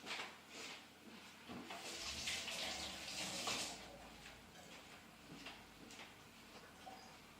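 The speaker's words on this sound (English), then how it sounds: "I'm going to wash my hands off first." Running tap water splashing over hands being washed at a kitchen sink during home peach canning, a faint close hiss of water that swells and fades, with light clatter and no talking.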